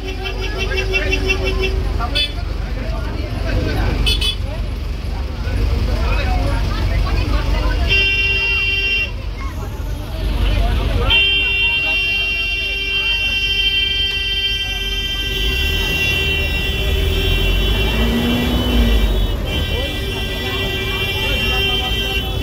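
Jammed street traffic in Sealdah, with repeated car and bus horn toots and a constant roadway rumble, while a person talks over it.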